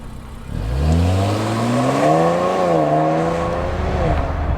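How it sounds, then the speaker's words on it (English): A 2019 Infiniti Q60 Red Sport 400 engine and exhaust rev up from idle into a deep, bassy sustained drone that climbs and wavers in pitch, loud and close. "if you get up close to the exhaust tips out back, you get a real nice bassy note"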